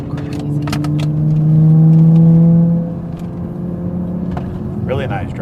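A Toyota MK5 Supra's engine pulls hard on a winding mountain road, heard from inside the cabin: a steady droning tone swells, peaks, then eases back, with a brief voice near the end.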